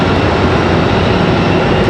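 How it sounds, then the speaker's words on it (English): Airbus A319 jet engines during pushback at Raleigh-Durham International Airport, a loud, steady, broadband roar that holds constant without breaks, close to the listener. "we've got an A319 pushing back here just below us"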